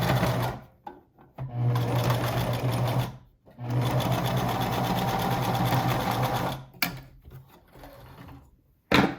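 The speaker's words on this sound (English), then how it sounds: "We're going to sew the other side now." Sewing machine stitching silk fabric for a face mask, close rapid mechanical whirring in two long runs separated by short pauses and a few clicks and handling noises.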